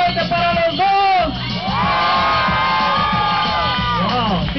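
A crowd whoops, cheers and yells loudly together for Mónica and Jaime at a dance event, with a dense, sustained roar of voices and high cheers rising over the whole stretch.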